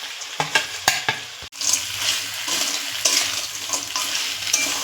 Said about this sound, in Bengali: এবার আমি কাঁকড়া আর আলুটা একসাথে দিয়ে দেবো। দুটোই একসাথে দিয়ে এবার 5 মিনিট কষবো।